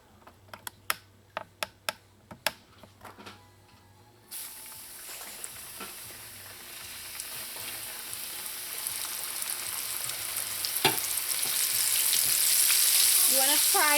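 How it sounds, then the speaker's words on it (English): Flour-dusted pork pieces dropped into hot oil: a few sharp taps and clicks, then a sudden loud frying hiss that swells and keeps bubbling steadily to the end. "And then you put it into the hot oil."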